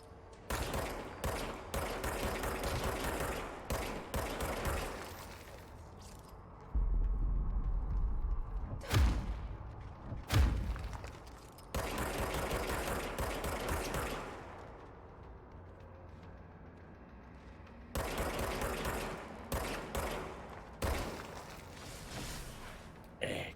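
Gunfire in the video game Control: loud bursts of rapid shots and heavy thuds come in several separate volleys, with quieter gaps between them.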